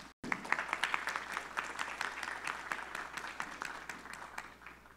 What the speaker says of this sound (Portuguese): Vamos aplaudir aqui, que ela está aqui.